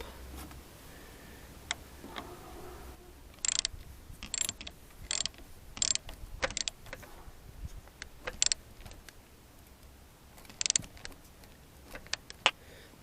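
Ratchet wrench tightening the battery ground terminal on a 2005 Toyota Camry, irregular sharp clicking bursts up close with quiet pauses between strokes.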